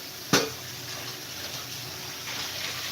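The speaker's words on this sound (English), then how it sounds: "I gotta wash out this teacup." Water running and splashing as a teacup is rinsed at the sink, a sharp clink near the start and then a steady close stream.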